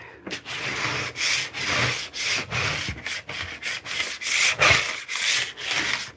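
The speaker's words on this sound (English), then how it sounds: "Let's scrape our board." A quilting cutting board is scraped in repeated back-and-forth rasping strokes, loud and close, about a dozen firm passes with brief pauses between them.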